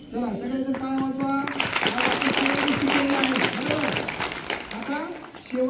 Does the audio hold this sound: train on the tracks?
no